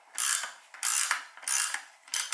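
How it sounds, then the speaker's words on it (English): A ratchet wrench works the front brake rotor bolts on a KX65 dirt bike, sounding as four close, loud bursts of rapid clicking, each a quick back-and-forth stroke with short pauses between. "Alright, time to take the rotor off."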